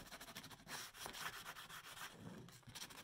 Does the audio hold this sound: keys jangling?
no